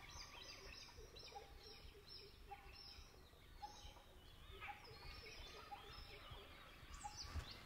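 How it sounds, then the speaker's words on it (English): Repeated clear whistled phrases of an Indian magpie robin singing at moderate distance over a soft outdoor ambience in Bandhavgarh National Park, India, with a brief loud knock near the end. "On the left is the Indian magpie robin"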